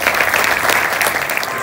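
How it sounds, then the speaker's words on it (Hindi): Loud, dense applause from an audience at a Proveda seminar, continuous clapping filling the whole short moment at close range. "एक बार जोरदार क्लैपिंग आप करें"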